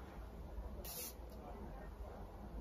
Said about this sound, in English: So you see how that sprays?